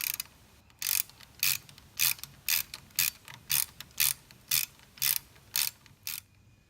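Ratchet wrench loosening the 8 mm oil drain plug on a 2018 BMW G310 motorcycle, a close run of about a dozen evenly spaced clicking bursts, each brief pawl rattle separated by short quiet gaps, with no talking.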